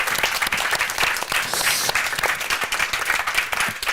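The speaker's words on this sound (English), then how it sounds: "if we can do a big round of applause for all these amazing speakers" Sustained audience applause for the speakers after an ecofeminism panel discussion, dense steady clapping filling the room at even loudness throughout, with no voices breaking through.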